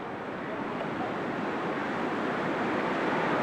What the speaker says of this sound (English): although quite windy today